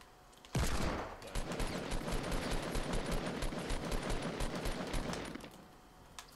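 Rapid sustained gunfire in Fortnite Battle Royale, a loud, dense burst of shots lasting about five seconds with no talk over it.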